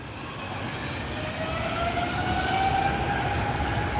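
British Airways airliner at LAX, its jet engines a steady distant roar with a rising whine as it passes, gradually growing louder, with no talk.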